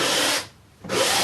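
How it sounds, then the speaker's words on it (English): Paint being scraped off a surface, two loud, close bursts of harsh broadband rasping separated by a brief pause, with no talking. "scrape it off like this"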